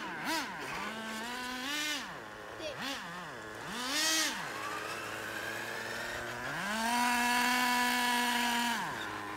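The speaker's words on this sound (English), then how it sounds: "That's my cousin driving my Traxxas Ford Raptor." A Traxxas Ford Raptor RC car is driven, its motor whining and rising and falling in pitch as it accelerates and eases off, then holding a long, high steady whine, heard at a moderate distance.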